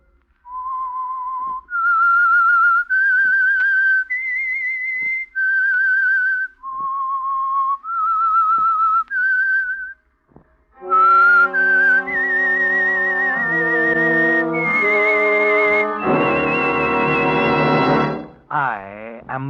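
A person whistles a slow, clear melody, the theme of the radio drama The Whistler, pausing between phrases, then sustained brassy orchestral chords swell in beneath and after the tune.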